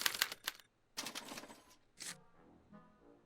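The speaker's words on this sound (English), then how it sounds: "they're relayed to this special typewriter, which prints out a punch card that represents the subject's mind map" A special typewriter printing a punch card in a Back to the Future adventure game, delivering bursts of rapid mechanical clacking separated by short pauses, with a lower whirring tail at the end.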